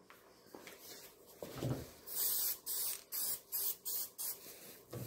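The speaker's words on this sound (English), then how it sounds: "Watch the overspray." An aerosol spray paint can hisses in about six short, evenly spaced bursts, loud and close, after a few softer handling noises.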